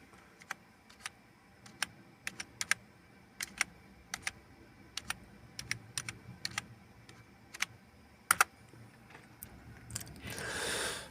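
Password being typed on a computer keyboard under Linux, a dozen or so sharp, sparse keystrokes with irregular pauses, close and quiet, ending in a brief rustle.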